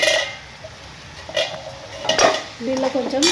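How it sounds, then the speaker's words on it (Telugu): Chicken frying in a pan, with a soft sizzle under intermittent stirring, scraping and clinks of a metal utensil against the pan, close and moderately loud. "చూడండి, చికెన్ ఫ్రై చేస్తున్నాను. చికెన్ ఫ్రై అవుతుంది ఆల్రెడీ"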